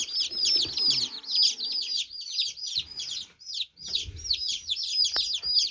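A batch of eleven newly arrived baby chicks peeps continuously, a dense chorus of high, rapid chirps close by with only brief pauses.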